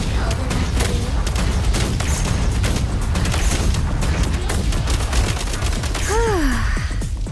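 Video game combat with a frag grenade blast and sustained gunfire, dense booming shots filling the whole stretch, with a shrill whistling sweep near the end.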